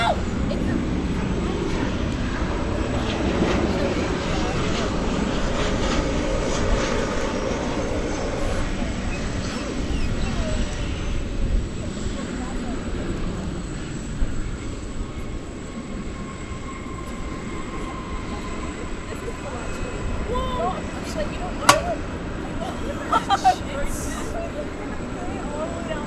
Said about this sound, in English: going through your screen there is an American Airlines 777 headed out of the hangar